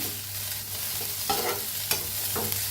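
Garlic cloves and a piece of ginger roast in hot oil in a pan while a spoon stirs them, giving a steady close sizzle broken by a few sharp scraping strokes.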